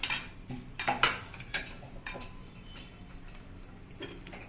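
Paneer is added to gravy in a pan with a series of close metal clinks and spoon scrapes, busiest in the first second or so and then tapering to sparse taps, without speech.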